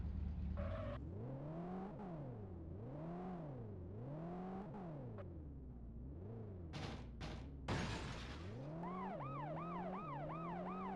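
A police siren in a video game wails in repeated rising and falling sweeps, breaks off briefly, then switches to a faster yelping cycle, loud and steady with no voices.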